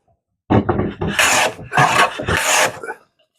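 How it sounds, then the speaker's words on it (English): A pad soaked in linseed oil rubs across a wooden board in three or four quick, rasping strokes, close and fairly loud, with short pauses between them. "just giving it a quick rub there."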